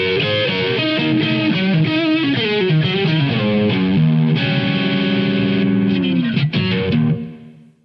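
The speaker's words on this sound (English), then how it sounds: "an old TS first issue tube screamer from about 1976," Electric guitar run through an original first-issue Tube Screamer overdrive pedal from around 1976–77, warm overdriven riffs and ringing chords, loud and steady before fading out at the end.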